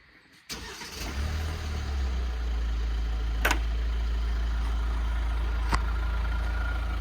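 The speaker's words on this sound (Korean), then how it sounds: "시동." An ambulance engine cranks and fires up during a weekly vehicle inspection, then settles into a steady low idle rumble, close and continuous, with a couple of faint clicks over it.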